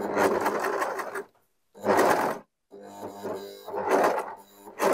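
Overlock sewing machine stitching along a fabric edge on a top, running in three loud bursts of rapid whirring with short pauses between, close and alone with no talk.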